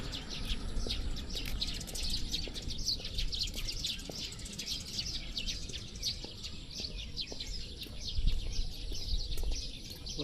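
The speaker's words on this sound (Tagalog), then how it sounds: "Dami ibon, oh." A flock of birds chirps and tweets constantly in Liantan Park in Nanke, Tainan, Taiwan. Many overlapping calls repeat quickly over a low, steady outdoor rumble.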